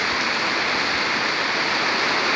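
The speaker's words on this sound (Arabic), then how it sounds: "أمطار الخير" Heavy morning rain pours down in the Gariaa district of Casablanca, a dense, steady hiss of drops hitting the ground that stays loud and even throughout, with no voices.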